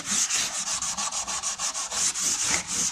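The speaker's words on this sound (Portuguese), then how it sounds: "Então agora eu passo uma lixa 40, passo uma lixa 80, quer dizer, em tudo aqui." Coarse 40 and 80 grit sandpaper is rubbed by hand over cured polyester body filler. The close, steady back-and-forth scraping runs in an even rhythm of roughly five strokes a second, with no voice.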